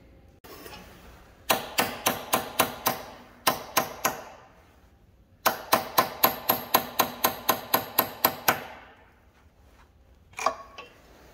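A hammer strikes a chisel to free the clutch coupler on a Caterpillar RD-4 tractor, sounding as sharp, ringing metallic blows in rapid rhythmic runs of about six and twelve hits with a pause between, close and loud.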